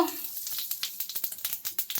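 Mustard seeds and hing crackle in hot tempering oil for sambar, a short burst of close sizzling with rapid popping ticks at an uneven rhythm.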